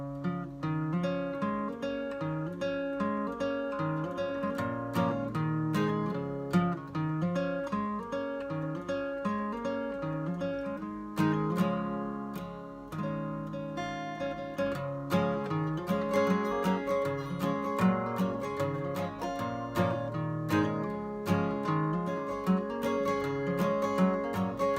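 Acoustic guitar plays the intro to a country song, opening with a picked passage and moving into steady rhythmic strumming, clear and solo with no voices.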